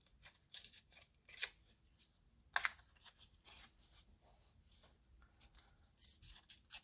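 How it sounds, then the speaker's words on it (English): Paper torn by hand for a mixed media piece, heard as a few quiet, brief ripping bursts, a sharper rip near the middle, with soft rustling and handling noises in a quiet room. "So I'm just going to tear it here."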